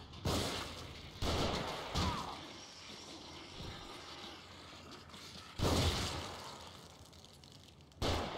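Gunfire from snipers in The Evil Within, heard as several sharp, loud bursts of shots spaced irregularly across a noisy battle background, with no talking.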